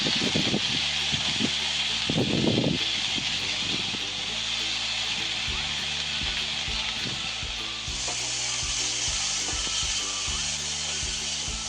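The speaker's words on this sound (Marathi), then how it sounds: "सगळं भाजून घ्यायचं सगळं। डाळ भिजू घातलेली टाकून घ्यायची।" Soaked chana dal roasts and sizzles in an oily spice mix in a pan, a steady hiss with a few short scraping bursts of stirring early on, no voices.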